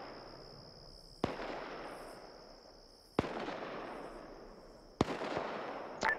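Three sharp, booming gunshot reports from ArmA 3 combat, each followed by a long rolling echo that fades slowly, with steady background hiss between them and no talk.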